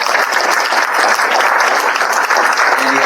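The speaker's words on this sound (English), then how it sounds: "A round of applause for Andy." Loud, sustained applause from an audience at a conservation talk, a dense, close crowd of clapping hands filling the whole stretch with little pause.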